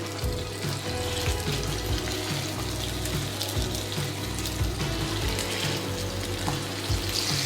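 Venison meatballs fry in clarified butter in a pan with a loud, dense, constant sizzle and crackle, close up and steady throughout, with no voices.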